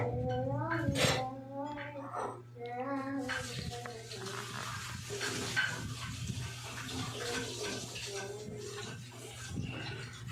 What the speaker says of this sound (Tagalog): Lakas naman ng tubig na yan.